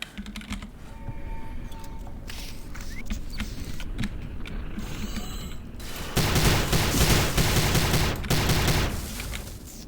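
Combat in the 2006 shooter game Prey, with rapid mechanical turret fire and clattering mechanisms that swell into a louder, denser blast near the end as the turret is destroyed, steady and close, with no voices.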